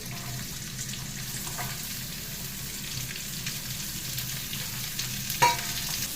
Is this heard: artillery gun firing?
no